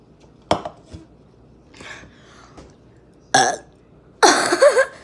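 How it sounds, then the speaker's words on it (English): A person lets out loud, close belches: a few faint clicks and small sounds come first, then two long, rough burps, the last the loudest and most drawn out. "Was that a loud burp?"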